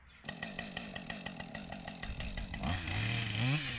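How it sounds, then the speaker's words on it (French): A chainsaw working in a forest during young-stand clearing, cutting a tree section: rapid pulsing idle chatter gives way to a rising, sustained rev as the cut begins, close and without talk. "le principe, ça sera de venir avec une tronçonneuse couper cette partie-là"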